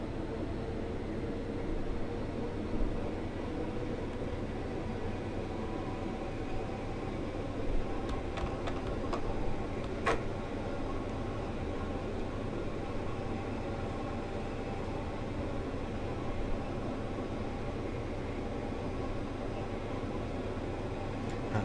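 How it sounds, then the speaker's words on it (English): Class 456 electric multiple unit train in Train Simulator, running between West Croydon and Wimbledon and accelerating toward 30 mph: a steady broadband rumble and motor drone that stays even throughout, with a few faint brief clicks near the middle. "We'll now accelerate up towards 30, and then I'll just shut off the power and allow the train to coast once again."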